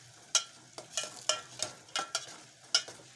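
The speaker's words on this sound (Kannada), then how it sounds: "ಈಗ ಒಗ್ಗರಣೆ ಹಾಕಿ ನೋಡ್ರಿ" Crackling, popping sizzles from cumin, mustard seeds, garlic and curry leaves hitting hot oil for tempering, in sharp repeated bursts over a quiet hiss, with no one talking.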